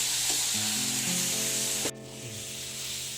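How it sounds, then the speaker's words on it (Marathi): Ingredients sauté in a hot pan with a steady sizzle and some stirring, close up, followed by a sudden clunk and a slightly quieter sizzle afterward, with no voices. "अशाच प्रकारे बाकीच्या गोष्टी पण एक एक करून परतून घ्यायच्या आहे."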